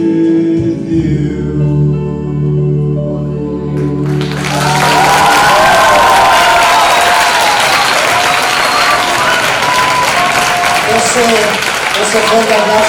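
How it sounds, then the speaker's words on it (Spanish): On the Spanish TV talent show Tu cara me suena 2022, a sustained musical chord from the end of a song gives way to a loud, enthusiastic studio crowd applauding Javi Hermida, the clapping swelling and holding strong. "Ese fuerte aplauso para Javi Hermida"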